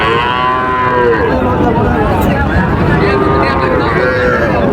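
Cattle moo repeatedly, low and drawn out, several animals overlapping amid a busy crowded background with voices.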